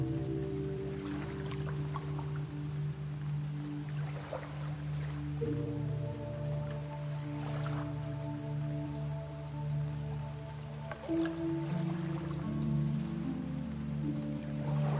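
Rain falls steadily as a soft, even patter beneath sustained low ambient tones, with no voices.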